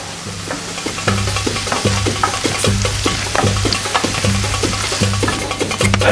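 Chicken sizzles in a frying pan with a dash of soy sauce, a constant loud fry broken by repeated scraping and stirring strokes of a utensil against the pan.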